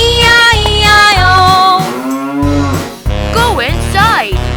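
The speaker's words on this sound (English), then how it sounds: "and on his farm he had a cow, E-I-E-I-O, with a moo-moo here and a moo-moo there" A sung cow "moo" from the farm nursery rhyme, drawn-out tonal calls with a musical backing bed, loud and continuous with a short pause near the middle.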